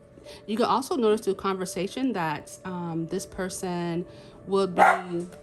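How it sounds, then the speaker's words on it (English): A very vocal pet dog barks and yips repeatedly in short bursts indoors while a person keeps talking, the barks mixed closely under the speech. "sorry for the dog noises."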